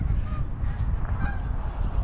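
A large flock of geese wintering in Calgary's Sunnyside area honks in a dense, continuous chorus of overlapping calls, steady and fairly loud throughout.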